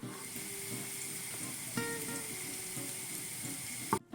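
Onions sauté in olive oil in a pan, a steady close sizzle and hiss that runs unbroken, with a faint clink near the end and no talking.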